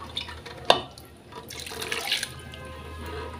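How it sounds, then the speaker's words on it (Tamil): Water is poured into a pot of cooking dal with tamarind: a short splash, then a light trickle and faint drips, close and clear. "கொஞ்சமாக லைட்டாக கொஞ்சம் தண்ணி சேர்த்துக்கலாம்."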